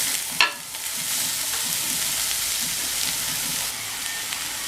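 Grated carrot hits hot oil with onion in a pan for carrot poriyal, making a sudden hiss-and-clatter that settles into a steady, close sizzle while being stirred.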